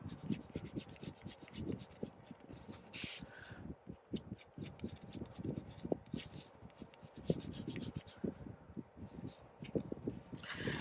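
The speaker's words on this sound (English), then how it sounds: "drawing an arch" A pencil scratches across paper, rubbing and rasping in a continuous stroke-by-stroke rhythm while drawing an arch, close and fairly quiet throughout.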